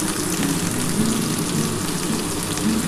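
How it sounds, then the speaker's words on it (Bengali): Ground spices sizzle in a hot pan while a fish curry is cooked, a steady, dense crackling hiss that stays even and close throughout with no talking. "দেখো, আমি সমস্ত মশলা দিয়ে একটু ভেজে নিয়েছি।"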